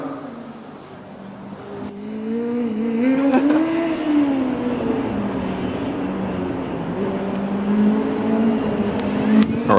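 A driverless Karlsruhe Formula Student race car running the skid pad at an event, its motor whining steadily and rising and falling in pitch as it circles, loud and fairly near over a broad background roar.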